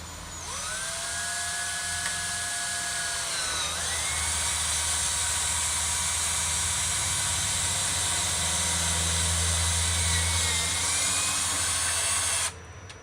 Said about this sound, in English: I'm gonna drill my hole here.